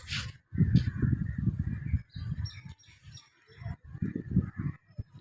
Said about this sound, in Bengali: পাখিদের চেঁচাচেঁচি শোনা যায়।